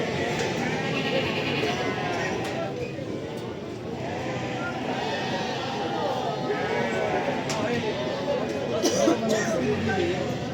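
Lambs bleating repeatedly at a sheep market in Barda, mixed with busy crowd chatter and nearby talking voices throughout.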